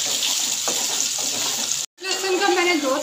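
Cumin and ginger garlic paste fry with onions in hot oil, giving a continuous close sizzle, broken by a brief dropout, while someone talks over it.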